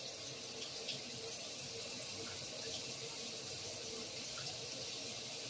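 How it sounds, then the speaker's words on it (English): Cold water runs steadily from a tap, a constant broadband hiss with no break, moderately loud and close. "I have to run in cold water."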